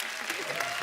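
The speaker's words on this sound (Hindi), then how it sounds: "इनके लिए जोरदार ताली" Studio audience applause on the Kapil Sharma Show, a short dense burst of clapping that fills the room at steady volume.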